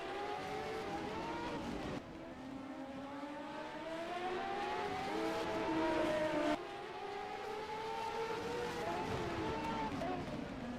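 A race car engine drones steadily in the distance on a 1987 CART oval race at the Escort Radar Warning 200, its pitch rising and falling as it heads toward the pits, with the tone shifting abruptly at a couple of points.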